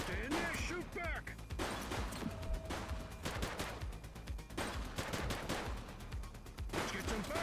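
Sustained gunfire in a police shootout in the video game Precinct, with dense rapid bursts and shots packed close together throughout, shouting voices mixed in near the start.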